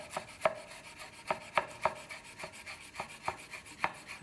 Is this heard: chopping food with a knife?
yes